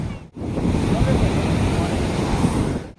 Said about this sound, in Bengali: তাই আমরা সমুদ্রের ধারে আসলাম